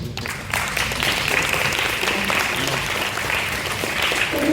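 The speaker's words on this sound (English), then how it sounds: "Please give them a big round of applause." An audience applauds after a high school class presentation, steady clapping that swells in after a brief quiet start and holds at a full, even level to the end.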